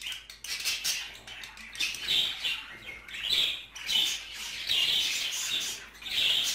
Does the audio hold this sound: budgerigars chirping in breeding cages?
yes